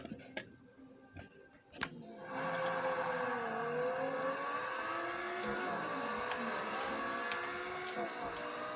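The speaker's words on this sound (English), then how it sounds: "Here we are, got the R8 LMS Ultra going." An Audi R8 LMS Ultra GT race car in Forza Motorsport 6 revs up after a few clicks, then holds a loud, steady engine drone with shifting pitch for several seconds.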